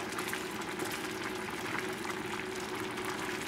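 Risotto with spinach and mushroom simmering over a high flame, giving a steady, close bubbling and burbling that holds evenly throughout with no talking.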